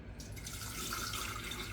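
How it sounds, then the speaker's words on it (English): Tap water pouring into a tea kettle, a short, steady, soft splashing stream heard alone with no talk. "we're going to put in 2 1/4 cups of water"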